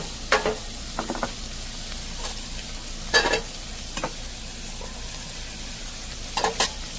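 Mixed vegetables including red, yellow and orange peppers sauteing in olive oil in a pan with chicken, heard as soft steady sizzling broken by several scraping stirs at irregular intervals.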